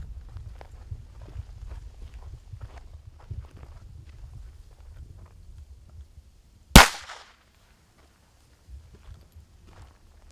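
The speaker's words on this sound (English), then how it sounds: "Let's try a few more shots." A single sharp small-caliber handgun shot cracks out loud and close at a shooting range, preceded by quiet shuffling footsteps and handling noise, then near silence with a few faint movements afterward.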